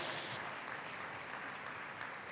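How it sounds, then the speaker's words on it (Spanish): Applause from a church congregation during a sermon by Pastor Luis del Cid, a steady dense clatter of many hands clapping together, continuous and even in level throughout, with no voices rising above it. "Le puede dar un aplauso al Señor, hermano."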